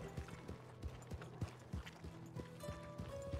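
Horse hooves clip-clop in a Red Dead Redemption 2 roleplay game, a faint, regular walking rhythm of soft knocks repeating about three times a second.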